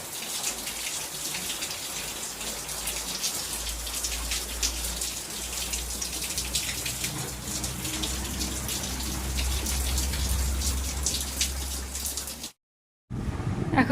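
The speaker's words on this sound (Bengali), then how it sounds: "এখন বাজে রাত্রি 9:30, আর মুষলধারে বৃষ্টি নেমে গেছে" Heavy rain pours at night in a dense, steady hiss of falling water with a low rumble beneath, continuing unbroken until it cuts off abruptly near the end.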